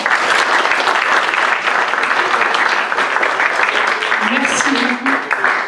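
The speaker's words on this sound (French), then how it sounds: "Donc je voudrais juste qu'on l'applaudisse chaleureusement." Warm applause from a conference audience at the closing session of a summer university, a thick continuous wash of clapping throughout, close and loud, with a voice speaking underneath.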